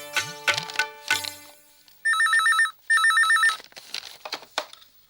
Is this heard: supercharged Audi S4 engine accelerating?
no